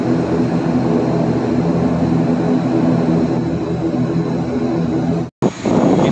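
Wings Air propeller airliner landing and taxiing at Saumlaki in the Tanimbar Islands, a loud steady engine drone heard from inside the cabin, cut by a brief drop near the end.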